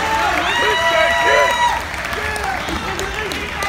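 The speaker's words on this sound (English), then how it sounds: "Put your hands together!" A crowd at the Yamamoto Cup fight event applauds and cheers, a loud, broad roar that eases after a couple of seconds, with shouted voices over it.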